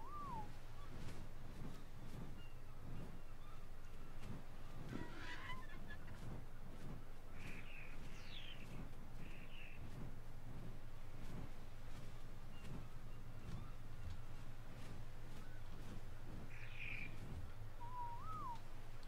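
Birds squawking and screeching in the video game ARK: Survival Evolved, with scattered calls over a steady low in-game drone and rumble, some cries sharp and near, others fainter in the background.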